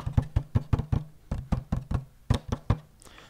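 Knuckles rapping on the hollow casing of a Kinesis Advantage ergonomic keyboard, about a dozen loud, close knocks in an irregular rhythm, then a brief pause.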